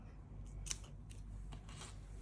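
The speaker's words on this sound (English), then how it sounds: "And then cut your tail off." Scissors snip off a crochet yarn tail on a chunky mitten, giving a few faint, quiet clicks over a low background hum with no talking.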